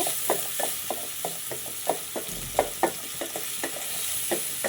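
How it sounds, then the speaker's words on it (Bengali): Kolai saag greens frying in a pan with a soft continuous sizzle, punctuated by regular scraping strokes of a spatula stirring, close and fairly quiet. "আমি এটাকে লাল লাল করে সুন্দর করে ভেজে নেব"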